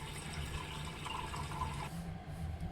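Tap water pours steadily into a soup pot holding pork bones, yam, carrots, beans, dates and dried tangerine peel, a continuous close splashing fill with no talk.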